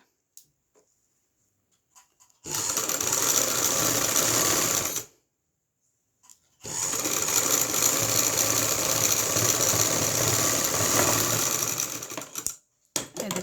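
An electric sewing machine stitches a lined kameez, or kurti, in two long continuous runs of fast, even whirring, close and loud, separated by a silent pause and followed by a few short bursts.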